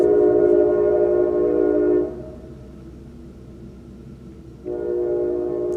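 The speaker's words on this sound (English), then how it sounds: "I forgot it was time for the train to go through." A train goes through nearby, its steady horn-like tonal drone loud for about two seconds, dropping to a low rumble, then swelling back up toward the end.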